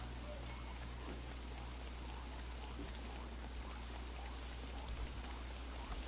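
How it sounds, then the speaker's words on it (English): Steady rain falls in a video game, a constant even hiss of drops with low rumble beneath, unbroken and moderately loud throughout. "It is kind of precipitous that it is raining as soon as I come out here"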